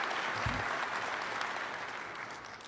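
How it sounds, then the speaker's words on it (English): Steady audience applause at a hacker conference talk, a dense even wash of clapping from a large crowd that holds for the whole stretch and fades slightly toward the end. "Let's give our rather nervous speaker a big round of applause and make him feel comfortable"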